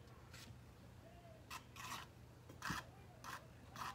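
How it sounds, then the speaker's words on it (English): Palette knife scraping blue acrylic paint across a canvas background, heard as several short rasping strokes spaced unevenly, close and fairly quiet, with no talking. "I'm just scraping it into the background"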